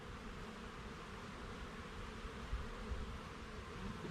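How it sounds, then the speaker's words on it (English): A steady, dense buzzing of many honey bees around a hive, continuous and close, with no voices. "We got a good population of bees in here"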